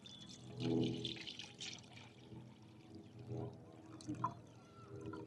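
Water splashes and trickles as it is poured into an AeroPress coffee maker, with soft uneven gurgles and a few brighter drips close by at moderate volume.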